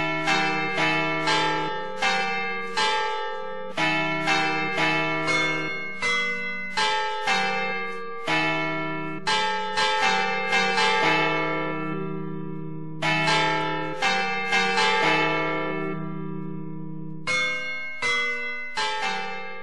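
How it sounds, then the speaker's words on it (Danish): Church bells ring in a steady series of bright, resonant strikes with long ringing decay, continuing for about twenty seconds with a brief pause near the end, loud and close with no talking. "Så er der klokker."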